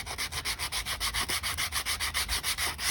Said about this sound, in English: Now I'll move on to a little thinner sandpaper, or finer grit, I should say.